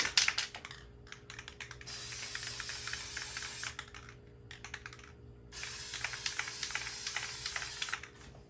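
A spray paint can gets two bursts of rapid shaking while an O gauge toy train is being painted, the mixing ball rattling in quick clicking runs separated by a short quiet pause, close and fairly loud.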